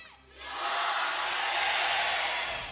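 A large arena crowd at a League of Legends Worlds 2023 Swiss Stage match between T1 and C9 erupts in loud, sustained cheering and shouting that swells quickly and holds for a few seconds.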